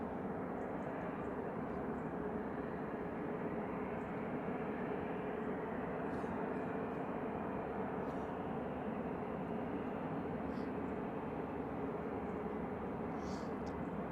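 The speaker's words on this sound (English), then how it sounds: "It's Airbus A320-200, registration GEUYW." An Airbus A320-200 airliner on a diverted Glasgow to London Heathrow flight passes overhead as a steady, continuous broadband roar that holds at an even level throughout.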